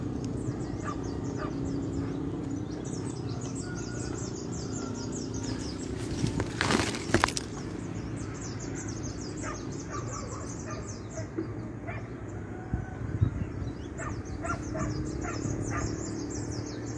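Crows and other birds call repeatedly in an outdoor clove-growing highland area near Tomohon, Minahasa, with scattered caws over a steady background hiss and a brief burst of noise midway.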